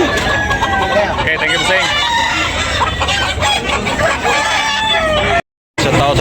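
Fighting cocks at a Sunday morning market in Tabunok cluck and crow continuously and loudly, with several birds close by, over a background of crowd chatter and someone talking, with one brief dropout near the end.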